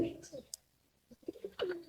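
Pigeons coo in a pigeon loft on a farm, giving a few soft, short calls separated by quiet gaps, fairly faint and close by.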